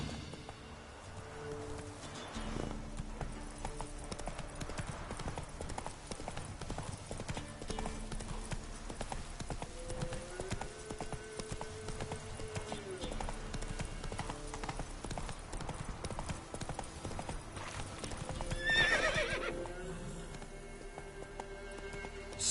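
Horse in the Witcher 3 video game galloping with steady, rapid hoof clip-clops throughout, rising to a louder snort or whinny near the end, with game music and ambience underneath.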